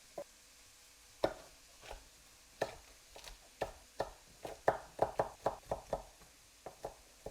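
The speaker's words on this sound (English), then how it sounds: "I'm going to chop up a couple of garlic cloves and a little piece of ginger and a small chili" A knife chopping garlic cloves, a small piece of ginger and a small chili on a board, giving sharp, close taps that start sparse and then fall into a quick, uneven rhythm, with no talk.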